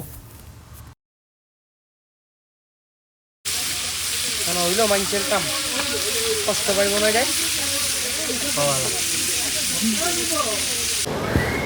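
Fish fries and coral fish barbecues at a seaside street stall in Kuakata: a broad crackling sizzle under nearby voices talking, broken by a brief silent gap before the cooking noise resumes and continues steadily.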